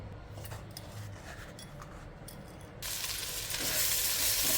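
Broad bean pieces fry in a pan for a village-style dish, giving a steady crackling sizzle with small clicks and scrapes, then swelling into a louder, brighter hiss partway through, no voices present.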